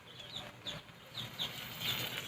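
A duck in a rural mountain homestead on Mindoro, Philippines, gives a series of short, fairly faint calls at irregular intervals against soft outdoor background noise.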